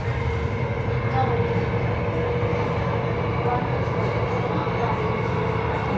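A Copenhagen metro train runs with a steady, continuous rumble and hum, heard from inside the car, while people talk faintly in the background.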